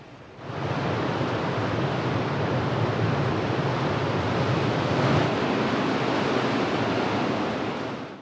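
Ocean waves breaking on a Tenerife beach at sunset, a steady broadband roar of surf that swells in and holds for several seconds, close, loud and continuous with no talk.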